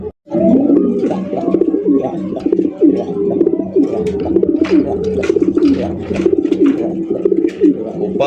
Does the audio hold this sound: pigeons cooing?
yes